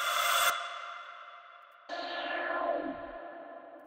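Two bright synth stabs, each cut off abruptly and followed by a long washy reverb tail that fades away, with a sweeping pitch drop in the second.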